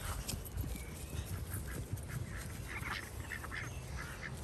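Ducks quack repeatedly outdoors, a busy scatter of calls over a steady background hum, with no talking; ducklings are present too.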